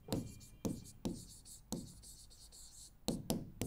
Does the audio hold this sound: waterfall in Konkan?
no